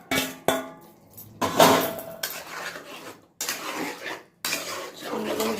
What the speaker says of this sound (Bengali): এবার আমি এতে চিকেনগুলো মিশিয়ে নেব।